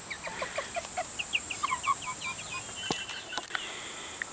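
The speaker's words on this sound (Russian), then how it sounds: "такой маленький петух и большой петух" Chickens cluck in short repeated bursts, with a rooster's calls mixed in, fairly close against a quiet background, followed by a couple of sharp knocks.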